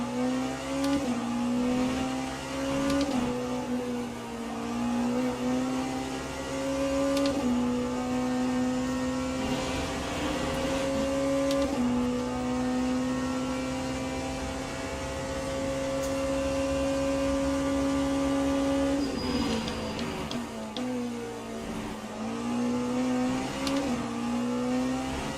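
GT3 race car engines in Le Mans Ultimate at Portimao, a steady loud drone with rising and falling revs and gear changes, several cars close together, no talking.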